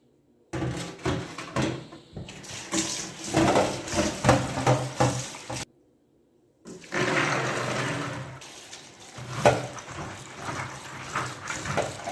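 Dried pigeon peas are rinsed under running water in a kitchen, with bursts of water splashing and sloshing close by, a short pause, then more steady rushing water and handling noises.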